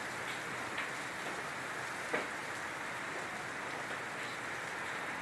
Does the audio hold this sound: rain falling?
yes